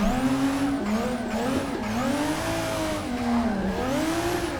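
A drifting car in a racing game, driven on a G920 wheel, squeals its tires steadily under a droning engine whose pitch rises and falls with throttle adjustments, loud and continuous throughout.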